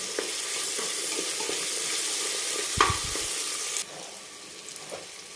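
Ginger garlic paste sautés in a pan for a rustic mutton curry: a continuous sizzle with spoon stirring and one sharper clatter partway through, after which the sizzle drops quieter; no one talks.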